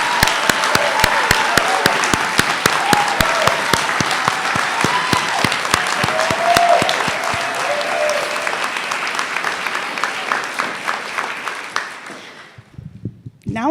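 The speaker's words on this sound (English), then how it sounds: "Please join me in a round of applause for the class of 2017." At a practical nursing pinning and graduation ceremony, a large crowd gives loud, sustained applause. Within the dense clapping, a few sharp claps stand out, along with faint voices and cheers. The applause then fades out near the end.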